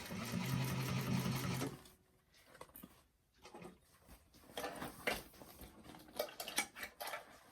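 Sewing machine stitching a bag, running in a loud steady whir for the first two seconds, then stopping, followed by soft handling clicks and rustles of fabric.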